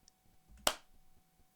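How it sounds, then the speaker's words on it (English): A single sharp hand clap, recorded close with a Rode NTG4 shotgun microphone, snaps once against a quiet room and dies away almost at once. "we started with a hand clap recorded with the NTG4 Rode microphone"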